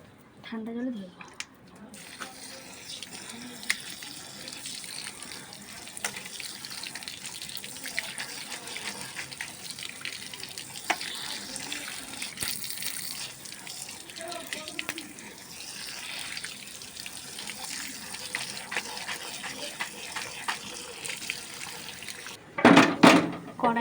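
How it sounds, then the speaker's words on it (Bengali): Boiled chowmein noodles rinsed under a cold kitchen tap: a steady stream of running water splashes for the whole stretch, with occasional clatter and faint voices underneath, ending in a louder burst of handling. "পরিষ্কার ঠান্ডা জলে ধুয়ে জল ঝরতে দিয়েছি"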